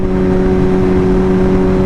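Motorcycle engine with an aftermarket exhaust running at a steady, loud, close drone, its deep humming tones holding level without any clear rise or fall.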